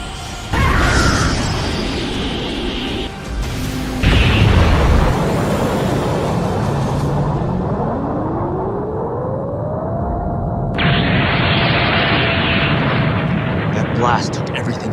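Energy blast explosion in a Dragon Ball-style animated battle against an android, a loud sustained roaring burst with crackling rumble and a rising whine, followed by a bright hiss.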